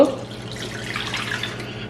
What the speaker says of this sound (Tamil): அந்த தண்ணியும் இதில் விடுங்க